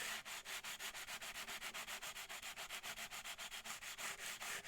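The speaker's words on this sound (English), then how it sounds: "because I'm pressing down, the sponge is getting in between the gaps as I sand" A sanding sponge smooths the sharp fret ends on a Bigfish concert ukulele, producing rapid, even back-and-forth rasping strokes, about six per second, close up and steady with no talk.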